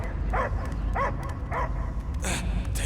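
A dog barks in the Guardians of the Galaxy video game, four short evenly spaced barks over a low rumbling game soundscape.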